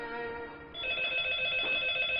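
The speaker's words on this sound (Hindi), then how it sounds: "टेलीफोन बज रहा है, तुम रिसीव क्यों नहीं कर रही हो?" A telephone bell rings indoors, a steady electronic trill with a brief softer lead-in before the ring sounds clearly and continuously, close and alone with no talk.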